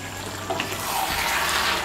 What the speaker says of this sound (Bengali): এখন আঁচটা বাড়িয়ে দিয়ে আর একটু নাড়াচাড়া করে নেব